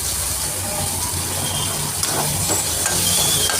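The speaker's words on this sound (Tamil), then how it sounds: "எல்லாத்தையும் போட்டு நல்லா வதக்கிக்கணும்" Onion, tomato, curry leaves, green chilli and garlic sautéing in hot oil in a pan, giving a steady close sizzle with faint scraping of the stirring spoon.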